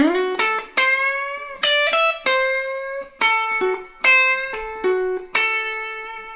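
An electric guitar plays a minor pentatonic pattern 3 lick with pull-offs, giving a quick run of about a dozen sustained, plucked notes, clear and close with no talking over them.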